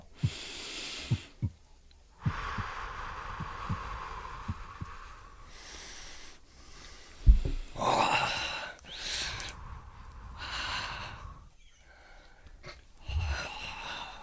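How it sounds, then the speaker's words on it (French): Slow, deep breaths rise and fall over a soft, muffled ambient bed, with gasps and sighing exhales, a few low thumps like a heartbeat, and quiet, intimate closeness with no talk. "Et la respiration commence."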